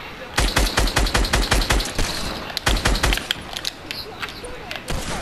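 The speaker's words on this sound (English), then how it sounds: "I've got a hand cannon. I'm about to hand cannon." Rapid, loud gunshots fire in fast bursts during a Fortnite match, a hand cannon cracking repeatedly before tapering into scattered quieter shots and background game noise.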